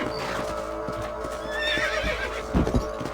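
A horse in Red Dead Redemption gives a clear neigh, a wavering whinny near the middle, with clip-clop hooves thudding at the end over a steady game-world background.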